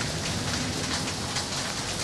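Steady rain falls over a city street, a dense, even hiss of drops hitting surfaces that holds close and constant throughout with no voices.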